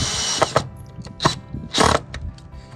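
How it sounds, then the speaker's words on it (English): Short whirring bursts from a power driver sinking screws into a new garden fence, three or four close, loud pulses separated by brief pauses. "So it's time to screw to the fence."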